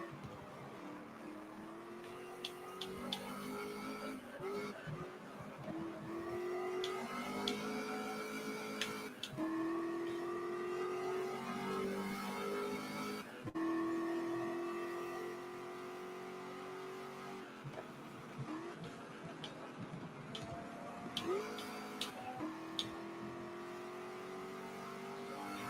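Race car engines in the video game GT Legends rev, whine and shift continuously, with several cars running close together, steady and loud throughout with no talking.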